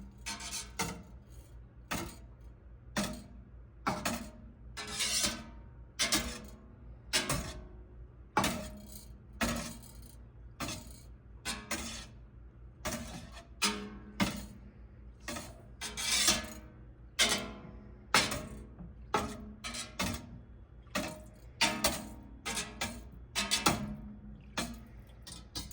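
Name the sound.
whisking milk up and down in a pot, making mozzarella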